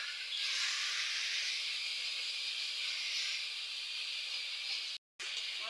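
Water poured onto spices frying in a hot pan sets off a loud, continuous hiss of steam and sizzle that runs unbroken and evenly, with only a brief cut near the end.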